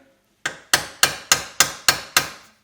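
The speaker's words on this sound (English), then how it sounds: "So I'm going to get something to use as a punch. Go on the front here" Seven sharp, evenly spaced metal hammer strikes on a punch driving out an engine bolt on a Suzuki Intruder VS1400, loud and close, each ringing briefly before the next.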